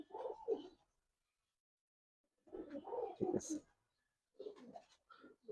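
A pair of red patti pigeons coo in low, throaty bursts close by, in two main bouts separated by a quiet gap, with a short third bout at the end.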